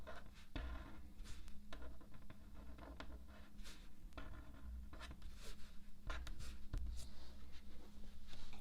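Pen strokes of cursive script lettering on planner paper, a steady soft scratching and tapping of the nib that runs continuously and close up with small pauses between letters, with no talking.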